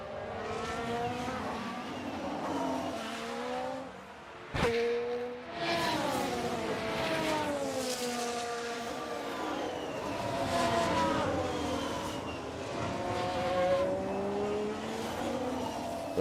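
Several F1 race cars in the F1 Manager video game, during the Bahrain Grand Prix, scream past with rising and falling high-revving engine notes that layer over one another in a steady, loud stream, with one sharp interruption midway.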